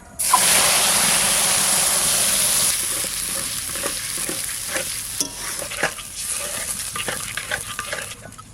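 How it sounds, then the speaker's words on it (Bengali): A wet spice paste of turmeric and salt mixed with water hits hot oil for a tuna curry with a loud, steady sizzle, then the frying eases to a quieter crackle broken by repeated scraping stirs. "সব একসাথে আমি গুলে নেবো এবার দিয়ে দেবো তেলের মধ্যে"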